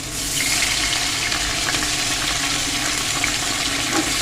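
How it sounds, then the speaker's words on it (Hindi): Water splashed into onions frying with ginger-garlic paste in a biryani pot sets off a loud, steady hiss and crackle that fills the whole stretch, with no voice over it. "थोड़ा सा हम इसमें लगाएंगे पानी का छींटा,"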